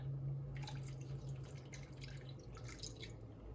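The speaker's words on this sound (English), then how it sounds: "Add a little more water." Water pours into a cooking pot of dirty turkey wings, a soft, steady trickling and dripping that runs quietly for the whole stretch with no talking.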